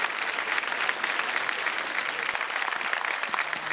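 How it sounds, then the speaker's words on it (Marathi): A kirtan audience breaks into loud, sustained applause, with dense clapping holding steady throughout and no voices standing out. "एकदा जोरदार टाळ्या झाल्या पाहिजेत आपल्या कीर्तन सोहळ्यासाठी"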